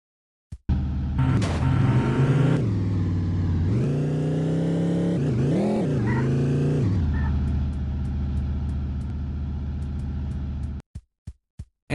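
A car engine in a video game drones steadily for about ten seconds, its pitch rising and falling as if revving, then cuts off and leaves a few short clicks.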